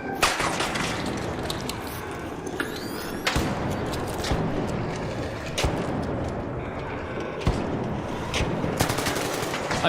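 Gunfire in a video game: dense, continuous bursts of automatic weapon fire with sharp louder shots standing out, filling the whole stretch at close range.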